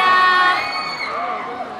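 Fans cheering and shouting for Twice at an indoor fan event, a loud high-pitched crowd roar that fades gradually over a couple of seconds.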